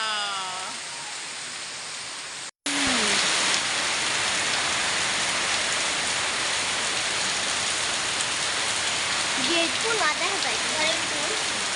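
Steady hiss of rain pouring down after a brief cut, loud and continuous, with faint voices and birdlike chirps poking through near the end.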